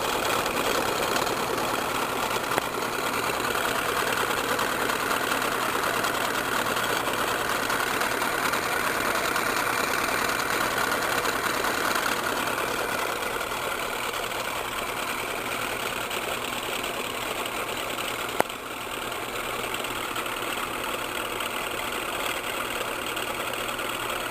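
A three-phase AC induction motor spins at its top running speed, giving off a steady, even drone with constant loudness and one brief click partway through.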